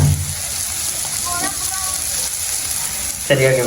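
Food frying in a pan for idiyappam kothu, a steady close sizzle across the whole clip with a brief stir or clatter near the end; voices are faintly present.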